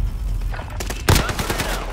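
Rapid gunfire bursts in Call of Duty Warzone crackle through a constant game background, loud and close, with a heavier burst near the middle and faint voices under it.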